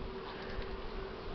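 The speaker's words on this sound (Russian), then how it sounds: "Это пчелы Бакфаст." Buckfast honeybees buzz in a steady, low drone from a swarm of insects, faint and continuous with no talk.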